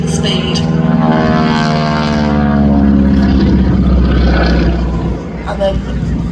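Propeller display aircraft trailing smoke at an air festival, building speed with a loud, close droning engine whose pitch shifts steadily, under a commentator's talk.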